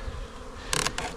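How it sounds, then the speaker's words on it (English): Close, bright buzzing of honeybees being installed from packages into backyard hives, swelling in two short bursts over a low hum, with no talking. "get these bees out here"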